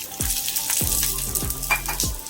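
Fried karunaikilangu tuber pieces go into hot oil, where a continuous close sizzle and bubbling carries a few soft thuds as the pieces land.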